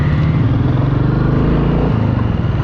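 Motorcycles cruising toward the Megler Bridge, a steady loud engine drone with a throbbing low hum and rushing wind, recorded close from the riding position.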